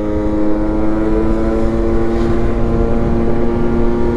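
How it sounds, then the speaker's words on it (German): Aprilia Ditech scooter engine held at full throttle, a loud steady drone with strong sustained harmonics and rushing wind noise, continuous and close without a pause. "Also ich gebe jetzt hier schon Vollgas, ne? Der muss erstmal in Gang kommen."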